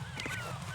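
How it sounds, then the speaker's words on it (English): Seagulls on the ship's deck in Metal Gear Solid 2 give a quick honking call, faint and brief amid steady background hum. "A lot of seagulls."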